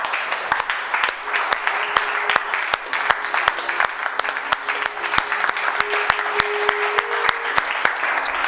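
A church congregation claps hands in praise, sharp rhythmic claps falling in a steady beat over sustained sung or hummed tones, loud and close, with voices underneath.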